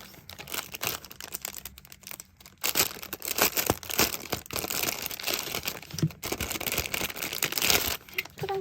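Merchandise packaging torn open and crinkled by hand, a steady run of close rustling, crumpling and ripping with short pauses, no talking.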